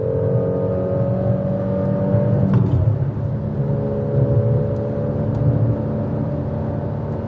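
Steady engine drone from a 2019 Fiat Panda Cross TwinAir accelerating on the road, a low two-cylinder hum with a brief shift dip midway before the note settles and rises again, loud and continuous with no talk.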